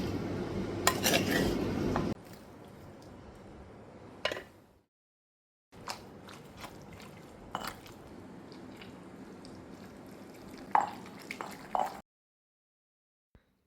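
Fried tomatoes pounded bit by bit in a stone mortar (rolu) for a village-style tomato chutney: irregular dull thuds and wet squishing knocks, close and fairly quiet, broken by pauses and silent gaps.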